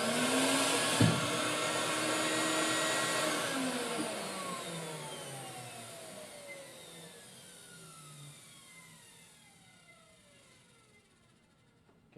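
A vacuum forming machine's vacuum pump roars loudly at close range, a steady whining drone that slowly winds down and fades, with a sharp click near the start.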